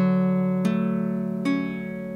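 Two strums on a Pahu Kani custom baritone ukulele, the chords ringing clean and clear and sustaining between strokes, close and moderately loud with no talking.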